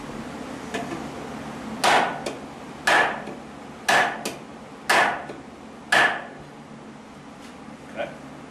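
Sharp wooden-sounding knocks from whacking the spine of a Cold Steel Espada folding knife with a Tri-AD lock, about five strong evenly spaced strikes a second apart, then a lighter final tap, close and alone.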